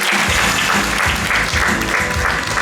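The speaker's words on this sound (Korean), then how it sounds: "마음을 담은 박수 다시 한번 부탁드리겠습니다" A lecture audience breaks into sustained applause, many hands clapping in a dense, loud, steady wash with faint rhythmic pulses and no speech on top.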